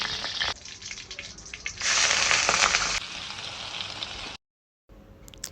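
Egg and chicken pieces fry with vegetables in a hot pan, giving a loud, bright sizzle that swells in bursts and briefly cuts to silence before resuming; no voices.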